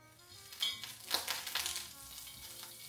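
Eggs with chicken frying in a pan give off a faint, soft sizzle, broken by a few brief clatters and scrapes.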